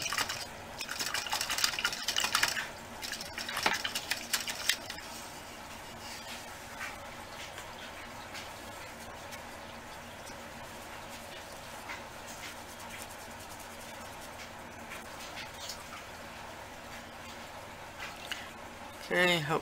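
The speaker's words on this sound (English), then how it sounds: "I've washed the brush, and I'm going to wash it again" A paintbrush being washed in water, with sloshing, swishing and dripping sounds that are brisk at first and then fade to a quieter, sparse trickle under a person speaking.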